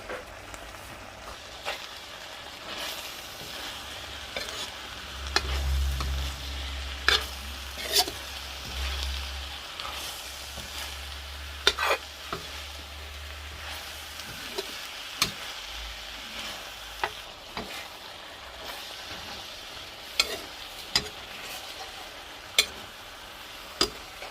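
Spicy eel curry with holy basil being stir-fried in a pan, a soft steady sizzle broken by sharp, irregular clinks and scrapes of the utensil against the pan, close up with no talk.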